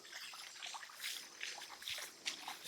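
Water trickles through a small channel toward wheat and clover fields, making a soft, uneven gurgle and burble with light splashes, quiet and close.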